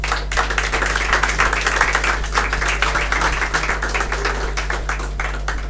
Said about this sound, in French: et la salle va applaudir pour lui